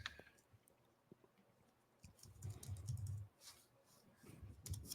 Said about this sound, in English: I hear you like typing.